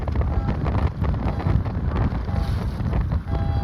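Strong wind buffets the microphone in a steady roar at a Sabot dinghy sailing race, with water rushing beneath; no talking.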